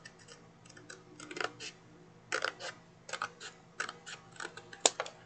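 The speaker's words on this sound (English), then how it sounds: "you can use your scissors." Scissors snip through paper at a tidy desk in a few short, crisp bursts with pauses between, near and quiet, and one sharper click toward the end.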